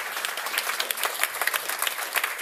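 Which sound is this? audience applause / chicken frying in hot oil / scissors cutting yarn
audience applause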